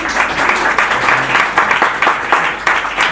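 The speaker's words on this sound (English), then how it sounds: "let me hear a round of applause if you have not" A theater audience claps loudly and densely, steady applause filling the room from start to finish with no talking over it.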